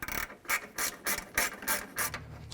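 A ratchet tightens bolts on the exhaust manifold and catalytic converter assembly of a 2012–2017 Toyota, giving close, loud bursts of rapid clicking in an even rhythm of about six strokes with short pauses between them.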